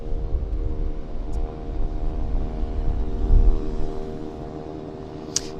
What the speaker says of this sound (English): So here's the Korean Airlines 777 cargo I was telling you about.